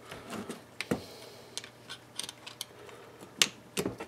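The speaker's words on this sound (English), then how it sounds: "I can just use the wrench." Wrench working loose a part in a home garage: sparse metallic clicks, ratcheting ticks and small knocks come in irregular bursts, close and fairly quiet, with no voices.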